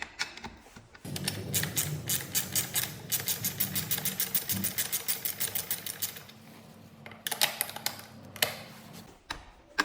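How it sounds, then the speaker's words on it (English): Wheel bolts being loosened on a Gspace Mars GTR, a fast ratcheting clatter of even clicks running for several seconds, then a few shorter bursts of clicking, close and clear with no talk. "Continue loosening the bolts."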